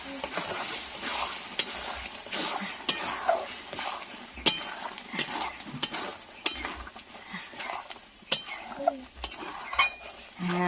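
A jaggery mixture for patishapta filling is stirred in a pan over a soft sizzle, with regular close scraping strokes and light clinks of a spoon against metal.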